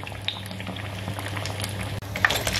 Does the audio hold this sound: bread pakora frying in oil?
yes